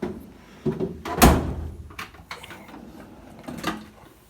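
A tool box drawer loaded with heavy equipment rolls open with a rumbling slide and a solid thunk, followed by a few lighter knocks and clicks nearby.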